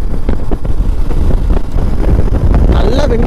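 Strong wind blast buffeting a rider on a 2025 Honda NX200 motorcycle during a test ride, a loud continuous roar of wind noise that a voice talks over.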